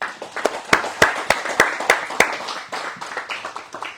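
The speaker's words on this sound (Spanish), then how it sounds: "Démosle un aplauso al Señor." A church congregation applauding after a Bible class, crisp rhythmic handclaps at a steady beat, loud and close, fading into scattered softer clapping toward the end.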